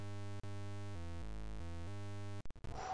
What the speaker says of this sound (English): that's the sound of me going through another room